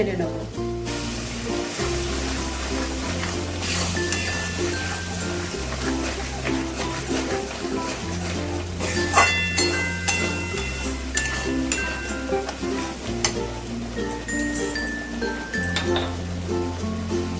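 Spices and green chili paste sizzle in a pan for a curd pointed gourd dish, with a steady frying hiss and occasional clinks of a spoon against the pan. Music plays underneath throughout.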